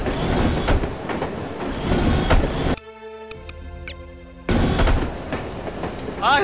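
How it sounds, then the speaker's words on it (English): Train riding on rails in the video game No One Lives Forever: steady rolling rumble and rail clatter for about three seconds, a short break with tonal game sounds, then the rumble returns loud and continuous. "I love riding the train."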